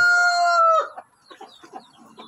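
A black Shamo asil rooster crows loudly and close, a long drawn-out call that cuts off sharply, followed by softer scattered clucks and rustling.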